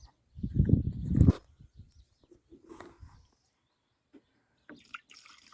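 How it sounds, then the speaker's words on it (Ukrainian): Water splashes into a garden sprayer tank while rinsing out a measuring cylinder of pesticide for treating apple trees, a short gushing pour followed by faint drips and small trickles in a quiet setting. "І знову водою змиваємо."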